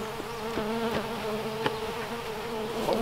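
Bumble bees buzz inside their hive in a greenhouse, a close, continuous droning hum with several overlapping wingbeat tones that rise and fall as individual bees move near the opening.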